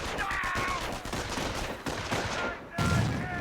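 Machine gun fire from an enemy MG team in Company of Heroes, a rapid stream of shots over battlefield noise, dense and continuous before a brief dip and a heavier burst near the end.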